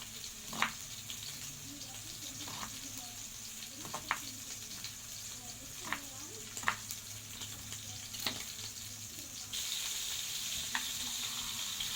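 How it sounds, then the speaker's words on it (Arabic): Chicken slices cook gently in a frying pan with a steady, soft sizzle, broken by a few faint clicks and light stirring taps; the frying grows a little louder toward the end. "شرايح الفراخ تبدأ تستوي معايا في الطاسة كده بالراحة"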